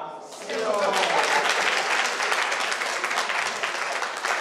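Audience applause and cheers at a ceremony honouring an NGO for World Habitat Day, a steady wash of clapping that swells after a quieter start and holds loud throughout, with some voices mixed in.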